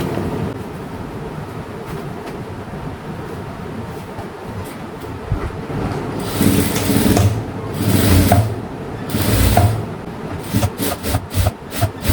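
A sewing machine stitches a child's school uniform trouser, a close continuous mechanical rattle that swells into several short rhythmic bursts of stitching toward the end, with no talking.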